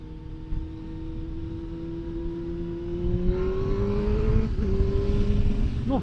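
A car cruising at about 60 km/h gives a steady, close engine drone over road rumble; the pitch creeps slightly upward toward the end, and no one speaks.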